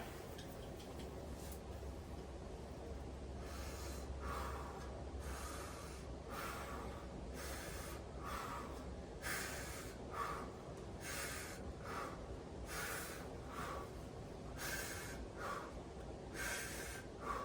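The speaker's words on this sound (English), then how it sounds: "I'm gonna have you take big deep breaths in through your mouth, okay?" Patient taking slow deep breaths in through the mouth during a lung exam, a series of faint, evenly spaced airy breaths over a steady low background hum.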